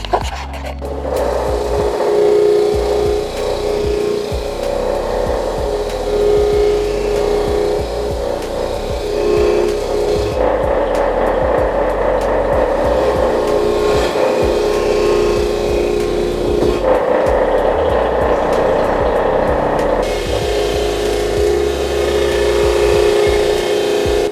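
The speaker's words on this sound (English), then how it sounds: "We're gonna run that on the wheel and we're gonna polish this." A buffer with a sisal wheel and black emery compound polishes stainless steel, a loud continuous grinding whir with a sustained tonal hum and rasping friction that shifts character at intervals as the piece is worked around the wheel.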